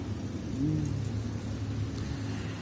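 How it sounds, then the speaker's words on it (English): A super modified race car, number 55, a tribute car on track at a dirt racing event, its engine giving a steady low rumble that swells briefly, heard at moderate distance with no talk. "Number 55 out there, super modified"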